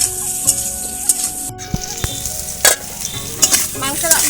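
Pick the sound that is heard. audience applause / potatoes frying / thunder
potatoes frying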